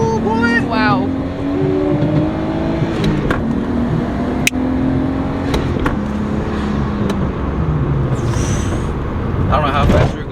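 A turbocharged RB25 Nissan R32 Skyline accelerates hard from inside the cabin, its engine note rising in pitch through the gears with a shift and turbo whoosh, while people talk over it.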